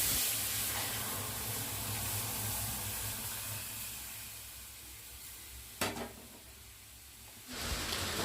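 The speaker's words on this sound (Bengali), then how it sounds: "এইখানে আমার ডাল সেদ্ধ হয়ে গেছে ফোড়ন দিয়ে দিচ্ছি" Lentil dal sizzles and hisses steadily in a pot as tempering spices go in, a broad close frying hiss that fades slightly over time, with a couple of sharp bursts near the end.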